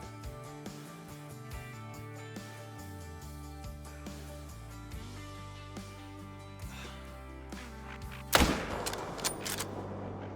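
A single hunting rifle shot in the video game Call of the Wild cracks out loud and sudden near the end, then fades into a short echoing tail over a steady tonal background.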